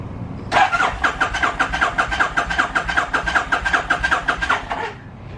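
A vehicle engine with a mechanical fault, started on the choke, cranks loud and close in a fast, even rhythm for about four seconds and then stops without catching.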